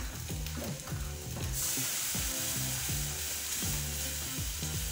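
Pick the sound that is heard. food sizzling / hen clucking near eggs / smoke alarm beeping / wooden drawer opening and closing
food sizzling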